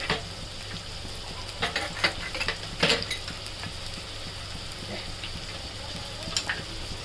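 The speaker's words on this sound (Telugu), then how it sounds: "ఉల్లిపాయ ముక్కలన్నీ వేస్తాం కదండి" Onion pieces frying and being stirred in a pan for fish egg bhurji, a steady close sizzle broken by scraping and clinking spatula strokes, with a louder stir burst near the middle and no talk.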